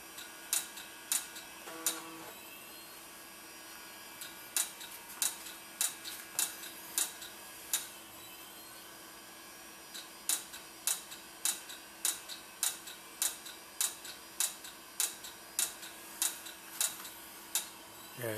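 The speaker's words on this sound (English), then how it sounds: "messed up hard drive with that clicking like that" Repeated sharp clicking from a faulty hard drive in an old Dell computer running Windows 98, sounding in irregular bursts and then in a steady rhythmic series of ticks over a low, constant machine hum.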